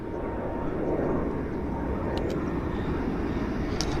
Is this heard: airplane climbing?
yes